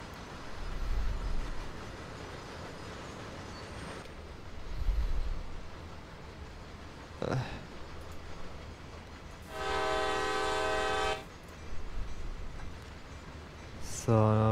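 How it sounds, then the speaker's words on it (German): A long CSX heavy-haul freight train in the Train Sim World game rumbles steadily past, with a sustained horn blast midway and another starting at the end, and a voice speaks intermittently. "wenn denn dieser blöde lange Zug endlich mal da drüber ist"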